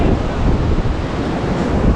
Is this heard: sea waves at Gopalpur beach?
yes